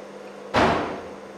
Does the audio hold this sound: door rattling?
yes